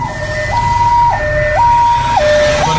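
An ambulance siren in city traffic, loud and close, switching steadily between two tones about every half second over a low rumble of engines.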